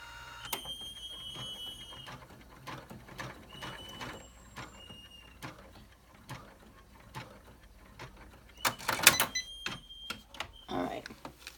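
An embroidery machine stitches an in-the-hoop business card holder with quick mechanical ticking and clicking, faint and irregular, swelling into a louder, busier run of stitches near the end.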